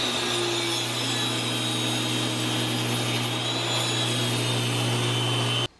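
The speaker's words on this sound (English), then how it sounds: "I'm going to take 3 24-inch boards and rip them in half for the railing" A power saw rips a 24-inch wooden board lengthwise for a toddler bed railing, a loud, steady whine and cutting hum held for several seconds before abruptly stopping.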